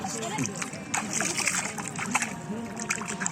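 Water splashed by hand at the edge of Burudi Lake, with brisk close splatters and sloshing under continuous nearby talk.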